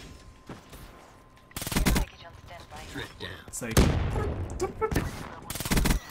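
Suppressed gunfire in Call of Duty: Black Ops 3, several muffled bursts of rapid shots spaced a second or two apart, each loud and punchy, while someone talks between them.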